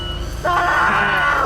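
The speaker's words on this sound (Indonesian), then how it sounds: "Itu suara teriakan tadi kan?" After a brief low murmur, a single loud, strained scream bursts out and holds for about a second.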